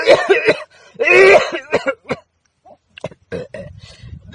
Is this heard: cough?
yes